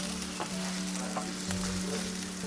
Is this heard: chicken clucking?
no